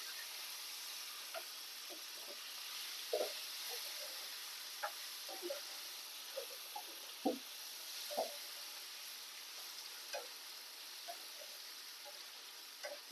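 Bottle gourd fries in a pan with a faint, steady hiss of sizzling oil, broken by scattered soft pops and crackles and a few light stirring taps.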